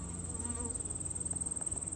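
Honey bees swarm around an open hive during a fall hive check, giving a steady, close, dense buzzing drone that holds evenly throughout with no talking.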